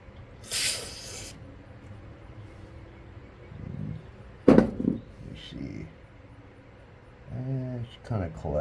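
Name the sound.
CRC brake cleaner spraying carburetor idle needle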